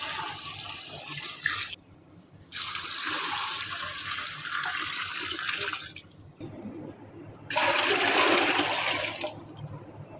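Water poured from a tap into a pot of mixed lentils for daal, a steady splashing rush in three bursts with brief pauses between, loudest at the end.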